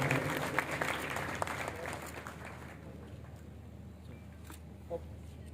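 Outdoor audience applause at a pigeon-flying award ceremony in Yazman, Punjab, a burst of scattered clapping that thins and fades over several seconds beneath a low mains hum and a PA-system tone.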